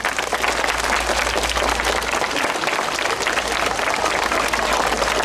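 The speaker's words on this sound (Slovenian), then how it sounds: "en velik aplavz za generalija" Sustained applause from a crowd at an outdoor school-safety event in Predoslje, dense and steady clapping throughout without a break.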